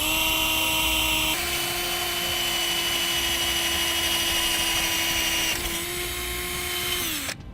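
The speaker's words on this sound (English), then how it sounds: "And then we'll drill a pilot hole." A power drill bores a pilot hole into a trailer frame, holding a steady high whine for several seconds, shifting pitch slightly partway through, then winding down as it breaks through at the end; loud and close.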